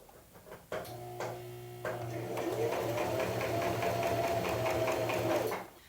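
A sewing machine stitching a seam in chiffon fabric for a frilly wrap dress, starting with a few short bursts and then running steadily and close for several seconds before stopping.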